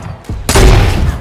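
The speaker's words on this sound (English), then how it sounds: "I hear gunshots." Fortnite gunfire crashes out in a sudden loud burst after a couple of lighter pops, then rumbles on in a dense blast that fades slightly toward the end.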